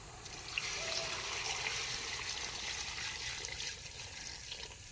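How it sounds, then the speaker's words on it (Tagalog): Second-press coconut milk pours steadily into a cooking pot, a continuous close trickling and splashing of liquid without any talk. "O ito po yung ikalawang piga na gata."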